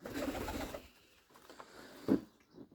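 Soft cooing of pigeons or doves in a garden bird aviary, a low murmur at first followed by a brief louder coo near the end.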